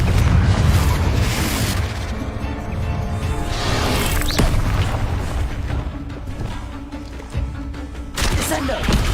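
A Confringo spell explosion in the video game Hogwarts Legacy bursts with a loud opening boom, followed by rumbling blasts and debris, with a voice shouting over the action.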